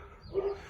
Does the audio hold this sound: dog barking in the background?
yes